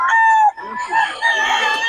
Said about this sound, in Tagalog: Solid ang mga manok ni boss.